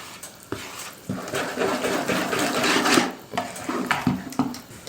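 A spoon stirring sifted flour into eggy pancake batter made with whey in a bowl, producing continuous close scraping and sloshing with rhythmic knocks against the bowl's side.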